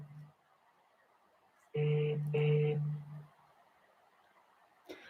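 A telephone rings twice on an outgoing call, two steady electronic ring bursts close together and fairly loud, then the line falls quiet before a faint click.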